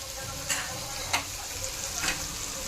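A spoon stirs chopped tomatoes into a stuffed onion curry sizzling in a pan, a steady frying hiss broken by a few soft scraping strokes, close and with no talking.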